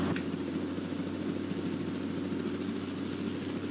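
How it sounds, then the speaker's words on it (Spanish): A helicopter in the American Truck Simulator video game gives a steady, droning engine and rotor hum, constant and moderately loud with no clear rhythm change. "¿Y ese helicóptero?"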